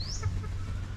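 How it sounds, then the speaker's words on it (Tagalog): Brood hens cluck softly on a farm, with a brief rising call over a low steady background hum in a short snippet. "Tapos ito naman yung mga brood hen natin"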